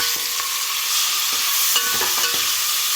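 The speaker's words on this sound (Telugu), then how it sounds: "టమాటోలు వేసుకుంటున్నామండి" Tomatoes sizzle and fry in a pan for kichidi, with a steady hiss and a few soft scraping stirs close by and no voices.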